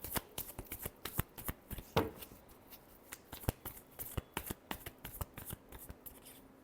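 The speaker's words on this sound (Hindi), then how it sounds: "Last shuffle." A deck of tarot cards is shuffled by hand up close: a quick run of crisp, rapid riffles and flicks, fairly quiet and with no talking.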